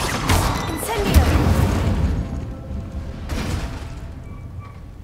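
An Incendio fire spell is cast in Hogwarts Legacy, giving a loud whooshing burst of flame that swells early and slowly fades, followed by a softer second flare.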